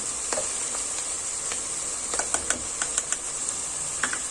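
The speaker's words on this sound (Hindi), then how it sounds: "जी अब हम इसमें टमाटरों को ऐड करेंगे" Keema mince frying in a pan as tomatoes are added, a steady hiss of sizzling with light scattered clicks and stirring taps, close and continuous with no talking.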